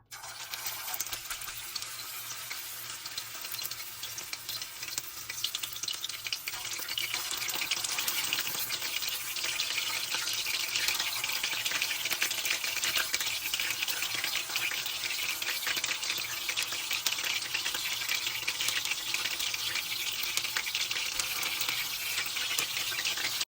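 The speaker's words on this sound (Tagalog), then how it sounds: "iprito muna natin tong ating meatballs guys" Meatballs frying in a pan for sweet and sour meatballs, a steady dense sizzle that grows slightly louder after the first few seconds and holds evenly throughout with no talk.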